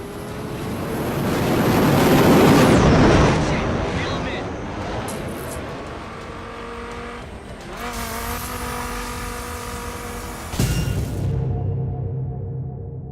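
Roaring car engines and rushing wind during a high-speed chase in The Crew racing game, loud and sustained with revs climbing and dropping, occasional tire squeal and a sudden impact-like jolt near the end.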